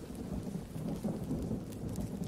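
Rain and thunder in the survival game Green Hell, a steady wash of rainfall with low rolling thunder rumbling underneath, continuous and fairly loud with no voices.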